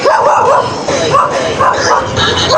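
A dog barks up close in several quick, loud yapping bursts with whimpering yips between them, on a street in Buraotan, Carmen, Planas, Divisoria.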